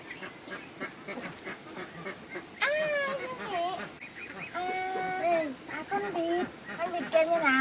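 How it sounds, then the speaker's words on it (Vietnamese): Loud, honking duck quacks in short bursts near the microphone, mixed with a child's and adult's chatter. "Con vịt kêu như nào?"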